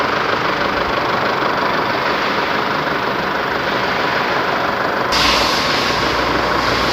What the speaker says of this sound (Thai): ตอนนี้เครื่องยนต์นิ่ง เดินนิ่งเรียบเรียบร้อยแล้วนะ